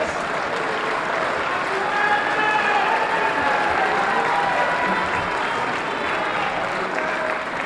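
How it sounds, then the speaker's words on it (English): Sustained audience applause at a community debate in Harlem, a steady dense clapping that holds evenly for several seconds with crowd murmur and cheering mixed in. "Give him a round of applause."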